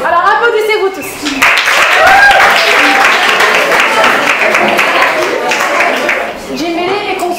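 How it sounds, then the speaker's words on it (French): Schoolchildren in a Belgian school burst into applause, many small hands clapping loudly and close for several seconds, with voices heard speaking at the start and end. "Alors applaudissez-vous tous."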